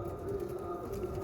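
Pigeons, Andhra Mangalagiri Lalsira, Fulsira and Lambadi patta birds kept for sale, coo in a low, steady, droning murmur close by, over a faint constant background hum.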